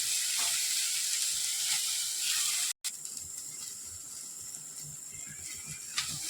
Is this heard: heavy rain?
no